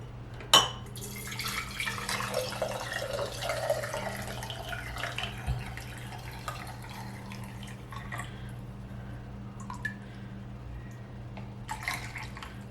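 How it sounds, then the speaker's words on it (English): Strained homemade chicken stock pours into pint canning jars for pressure canning: a wet trickling and splashing stream with faint glassy clinks, continuous and close, with no voices. "now I've strained it, and it's going into pint jars as we speak"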